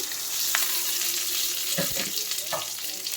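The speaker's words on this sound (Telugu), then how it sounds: "స్టవ్ మీద ప్యాన్ పెట్టుకొని ఆయిల్ వేసి వేడి చేసుకున్న తర్వాత తాలింపు గింజలు, కరివేపాకు వేసేసుకుందాం" Tempering seeds and curry leaves sizzle in hot oil in a pan on the stove, a steady close crackle broken by a few sharp pops and light clinks, with no voice over it.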